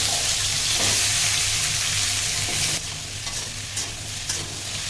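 Squash and potato pieces frying in hot oil in a pan while being stirred, a steady loud sizzle with scraping stir strokes, easing slightly partway through.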